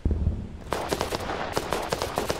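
In the video game Fog of War, a dull thump gives way to rapid, sharp gunshots firing in quick succession, fairly close and crisp, with no talking.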